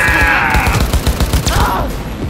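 Rifle shots in Cyberpunk 2077 ring out in a quick uneven burst of several sharp cracks, loud and close, under a sustained tonal game soundtrack and ambient noise.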